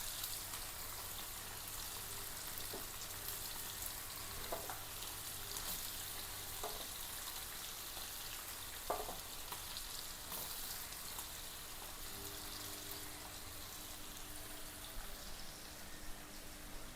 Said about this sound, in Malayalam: ഞാൻ ഇന്ന് മേടിച്ച മത്തി വറുക്കാനായിട്ട് ഇട്ടിട്ടോ.